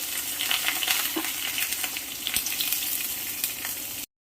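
Chopped onion and green chilli fry in oil with mustard and fenugreek seeds for a shark fish curry, making a close, continuous sizzle with light stirring scrapes before it cuts off abruptly.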